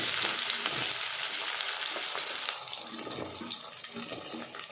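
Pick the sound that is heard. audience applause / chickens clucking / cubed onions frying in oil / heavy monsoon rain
cubed onions frying in oil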